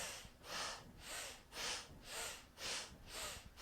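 Rhythmic breathing during a guided breathing exercise, with about six broad, airy breaths in steady succession, each swelling and fading, close and fairly quiet with no talk.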